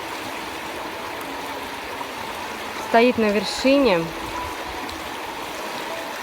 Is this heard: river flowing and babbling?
yes